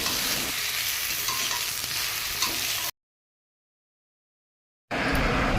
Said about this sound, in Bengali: নুনটা দিয়ে আবারও ভালোভাবে বেগুন আর আলুটার সাথে মিশিয়ে নিলাম